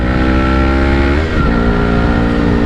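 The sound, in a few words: motorcycle engine revving with clutch slip on badly timed shift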